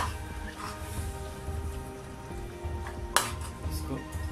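Aloo keema with ginger-garlic paste, turmeric, garam masala and red chili is stirred in a sizzling frying pan, soft scraping under a low fry hiss, with one sharp clink of utensil on pan.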